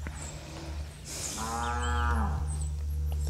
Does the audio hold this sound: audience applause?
no